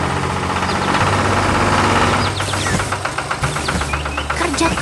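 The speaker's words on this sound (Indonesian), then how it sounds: "Traktor hijau bekerja di tengah sawah" An animated green tractor working in a field gives a low, steady chugging engine drone at first, then lighter rhythmic clattering with bright percussive accents.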